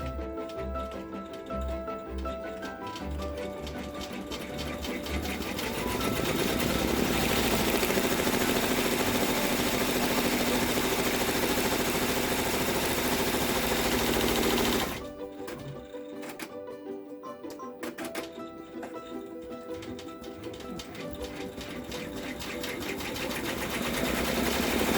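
An embroidery machine top stitches a Doritos zipper bag, its needle hammering in a fast, steady mechanical rhythm close by, with a short pause in pace partway through before it runs on again.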